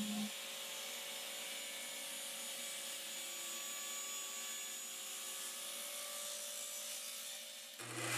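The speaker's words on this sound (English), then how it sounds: "now I'm going to resaw this piece at the table saw" A table saw resawing a piece of wood, a loud sustained whine with a steady blade tone that runs almost the whole time, then drops off at the end.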